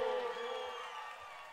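Crowd at a Brazilian lambasaia party cheers and whoops in a steady, dense wash of voices that slowly eases off, with no single voice standing out.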